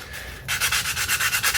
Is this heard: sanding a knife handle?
yes